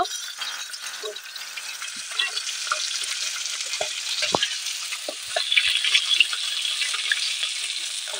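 Steady crackling sizzle of bhola fish frying in hot oil, bright and continuous, with occasional soft clicks and pops, no voices.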